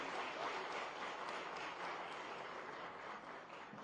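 Audience applauding at a government memorandum signing event, a dense, steady wash of many hands clapping that holds evenly and fades slightly at the end, with no voices over it.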